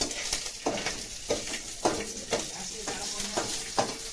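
Onion sizzles in hot oil for pumpkin flower fritters, with a constant crackling fry broken by a steady rhythm of spatula scrapes and stirring knocks against the pan.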